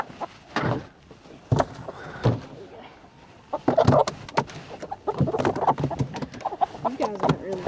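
Chickens cluck and squawk in a box on a farm, with scattered wing flaps and scuffling as the birds are handled, and some talk mixed in.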